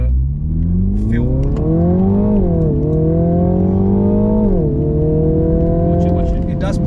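Mini Countryman JCW crossover accelerating hard with its gearbox and drive mode in sport, a loud close engine note climbing in pitch, dropping at a gear change, then climbing again through the next gear.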